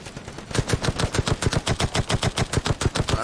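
Rapid automatic gunfire in the mobile shooter Striker Zone Mobile, a close, loud stream of evenly spaced shots lasting several seconds after a brief lead-in.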